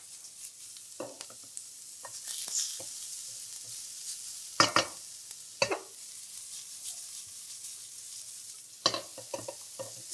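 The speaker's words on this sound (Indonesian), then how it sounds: "Kita tumis sampai dia berubah warna." Chicken breast or thigh pieces sizzle and crackle in a hot wok while being stir-fried, with sharp scraping clatters of a utensil against the pan.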